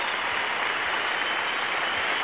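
A Test cricket crowd rising to applaud Greg Chappell in his final innings against Pakistan, a dense, loud, continuous wash of clapping from a large stadium audience.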